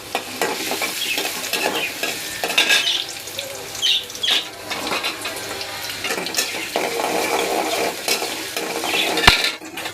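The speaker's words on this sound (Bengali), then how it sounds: "তাই এইভাবে আলুটা আমি ভেজে দেবো আগে" Potatoes frying in oil in a pan, a steady sizzle with stirring and occasional clinks of a utensil, fairly close and continuous with no talking.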